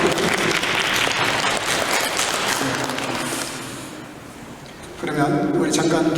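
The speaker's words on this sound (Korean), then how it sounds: "박수 한번" A church congregation applauds during a New Year's Eve service at a Korean mission church in Berlin, the clapping full and steady for about four seconds before fading, then a voice begins speaking.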